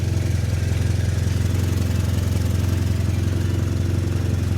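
A 1991 Eagle Talon turbo engine runs steadily up close with an exhaust leak between the downpipe and turbo, giving a loud, even, low rumble with a fast ticking pulse and hiss above it, with no talking.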